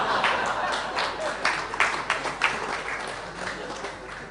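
Audience applause during a Sunday Feast talk at an ISKCON temple, a steady wash of many hands clapping at moderate volume throughout, with brief louder swells and a voice faintly mixed in.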